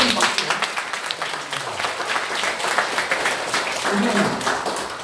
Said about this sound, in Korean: 참고로 큰 박수.